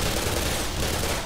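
A grenade blast in the video game Black Mesa, a loud, dense burst of roaring noise that fills the short moment with no pause.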